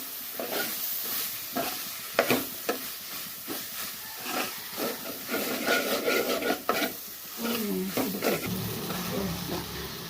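Ginger garlic paste frying in a pan for a cuttlefish dish, a steady close sizzle and hiss with scraping spoon strokes breaking in irregularly, and a voice briefly heard.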